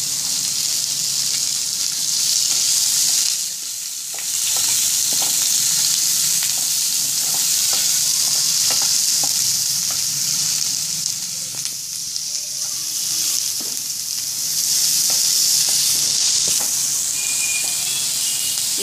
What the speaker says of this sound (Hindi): ये प्याज में गुलाबी होने तक भूनूंगी, हल्का सा पिंक कलर आएगा।